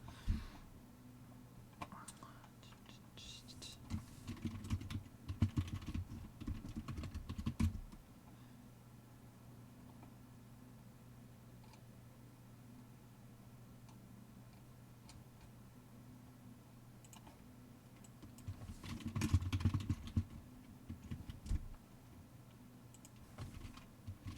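Someone types on a computer keyboard in quick bursts of clicks, separated by a long stretch of near silence, with faint whispering and a low background hum.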